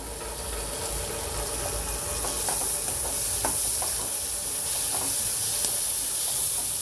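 Chopped tomato goes into browned, softened onions frying in oil in a pan, with a steady loud sizzle and hiss, steam and occasional stirring clicks throughout, no talking.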